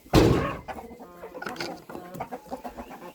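Chickens clucking and squawking close by, starting with a loud burst and continuing in short, irregular calls.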